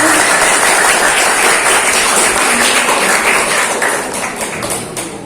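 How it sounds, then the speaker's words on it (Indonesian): An audience at a school debate competition claps steadily, dense applause holding strong at first and then gradually thinning and fading in the final seconds. "Kita beri tepuk tangan untuk kesempatannya."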